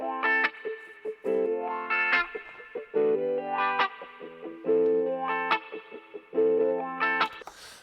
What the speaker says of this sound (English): Back to the wah-wah.